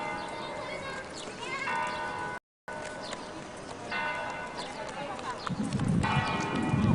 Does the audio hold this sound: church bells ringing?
yes